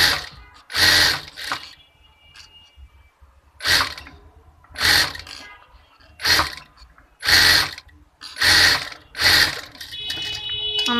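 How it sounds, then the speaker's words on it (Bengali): Sewing machine stitching fabric for a baby frock neck, with repeated short bursts of rapid mechanical whirring and clatter separated by quiet pauses, close and fairly loud. "এখন আমি এটা এরকম ভাঁজ দিয়ে সেলাই করে নেব।"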